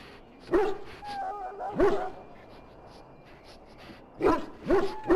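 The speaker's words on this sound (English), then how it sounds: "the poor hound swallowed darkspawn blood" A Mabari war hound in Dragon Age, sick after swallowing darkspawn blood, gives whimpering yelps and short barks in three separate bursts, close and clear over a quiet background.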